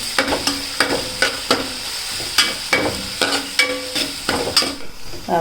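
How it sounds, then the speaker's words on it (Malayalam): Chopped green bullet chillies are stirred in a hot pan of oil for rambutan pickle, a spoon scraping and knocking in a steady rhythm of sharp clinks over a continuous sizzle, close up with no talking. "എല്ലാം കൂടെ ഇളക്കണം"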